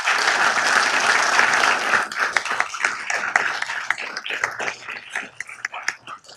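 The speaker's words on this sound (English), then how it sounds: "Can we please give him a round of applause?" An audience at a Downey city council meeting applauds for a Mayor's Legacy Award recipient, a loud dense burst of clapping that thins into scattered individual claps.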